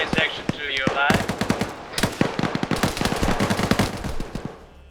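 Dense automatic and single-shot gunfire from an Arma-style military video game, a close, loud burst of rapid cracks that starts about a second in and keeps firing in steady clusters to the end, with some talk underneath at the start.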